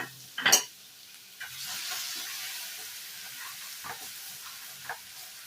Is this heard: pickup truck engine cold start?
no